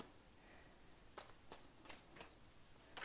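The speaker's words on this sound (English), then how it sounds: "Still shuffling them, but we'll take this one." A deck of tarot cards is shuffled in a quiet room during a reading, with a few faint, quick riffling flicks and soft papery snaps spaced across a hushed background.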